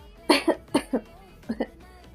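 Someone coughs in three quick pairs, sharp, close and fairly loud bursts separated by short pauses, with no talking around them.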